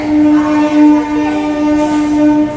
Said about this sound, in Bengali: এখান দিয়ে বারবার ট্রেন যাচ্ছে, এবার এই দিক দিয়ে যাচ্ছে।